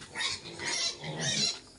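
Pet pigs at feeding time give three close, loud grunting squeals in quick succession, each lasting about half a second.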